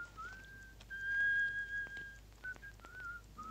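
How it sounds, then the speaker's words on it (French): A person whistles a short wavering tune, with clear high notes sliding between pitches in several brief phrases, close and fairly loud over a quiet room. "Arrêtez de siffler."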